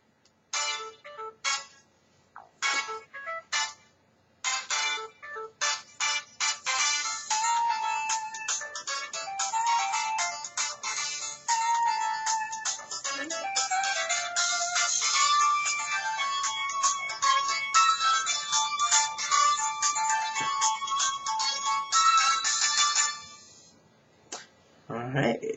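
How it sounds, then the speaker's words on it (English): Phone ringtones play in sequence, a run of bright electronic melodies and chirpy tonal patterns, starting with short choppy bursts and then a denser continuous tune, fairly close and clear before cutting off near the end. "And we'll listen to the ringtones."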